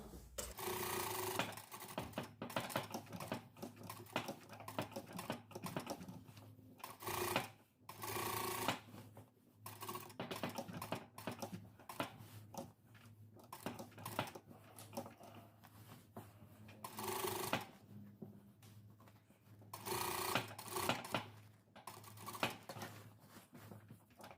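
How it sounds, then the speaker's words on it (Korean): A sewing machine stitches two parallel lines to attach a pocket on a sailor-collar dress, a continuous quiet mechanical whir with rhythmic ticking, pausing and restarting a few times, close by. "자, 이렇게 해서 주머니 두 선 봉제 좌우로 합니다."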